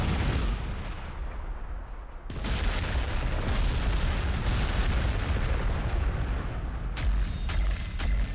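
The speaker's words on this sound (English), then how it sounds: "It's a lot of gunfire." Dense, continuous volleys of gunfire in Warhammer 40,000: Gladius - Relics of War with booming blasts, loud and sustained, a brief lull before the shooting resumes at full intensity.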